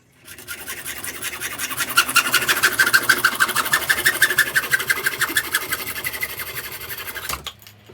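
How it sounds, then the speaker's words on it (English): A hacksaw rasps rapidly through the ends of ducting pipe, a dense, steady stream of quick scraping strokes lasting several seconds before stopping abruptly, close and fairly loud. "I've got some ends to cut off with a hacksaw"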